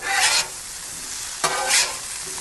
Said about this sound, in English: So we're just going to kind of turn these over a few times, push them to the side there, and let those keep going.